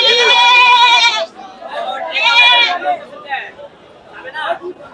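A fat, healthy crossbred mother goat bleats loudly and close by in a long harmonic cry, then gives a second call, with people chattering and talking around it at a livestock sale.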